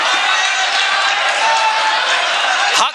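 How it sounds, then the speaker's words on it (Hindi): Loud, sustained clapping from a crowd at an Urdu poetry mushaira in Khatauli, a dense continuous roar of hands with cheering mixed in, ending with a brief dip. "जोरदार ताली बजनी चाहिए।"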